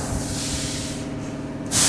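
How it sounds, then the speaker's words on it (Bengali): Water poured into braising mutton in a hot pan produces a loud, steady hiss and sizzle, with a sharp burst of spray at the end. "কষা মাংসতে আমি জল দিয়ে দেবো।"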